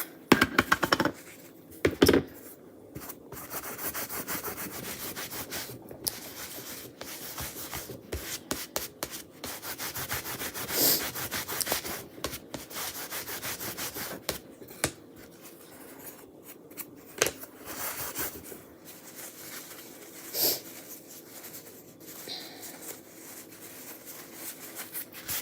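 Wax being rubbed over a chalk transfer, a soft continuous scrubbing with brief sharper scrapes and taps, close and quiet over a long stretch.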